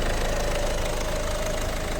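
A Peugeot 508 from 2016 with its 1.6 HDi diesel engine running under the open hood, a steady close idle with a dense, even clatter for two seconds and no talking.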